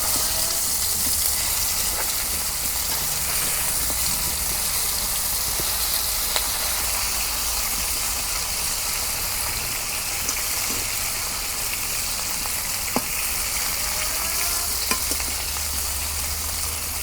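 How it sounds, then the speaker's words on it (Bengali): A big silver carp sizzles steadily as it fries in hot oil, giving a dense, continuous crackle with occasional sharper pops and faint clinks, loud and close throughout with no talking. "মাছ ভাজা হচ্ছে"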